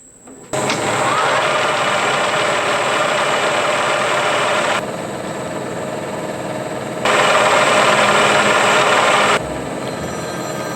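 A metal lathe runs steadily in a workshop, its loud continuous mechanical whir shifting in intensity as the load changes, with no talking.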